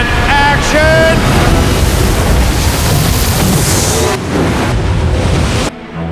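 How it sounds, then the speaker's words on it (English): Dump tank waves crash onto a boat hull raised on a film-set rig, a loud, continuous roar of surging water and spray with wind-like hiss, cutting off abruptly near the end. "the waves are going, and the dump tank's crashing"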